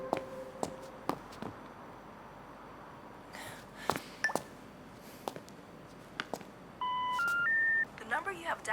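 Telephone keypad tones sound as a phone number is dialed: a rapid series of short, distinct beeps with uneven pauses, followed by a longer steady tone sequence and faint breathing and movement.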